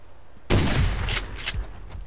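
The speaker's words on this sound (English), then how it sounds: "I'm trying to take him down with the shotgun." Shotgun fire in the survival video game Subsistence: a loud burst of blasts from about half a second in, with a couple of further cracks echoing behind it.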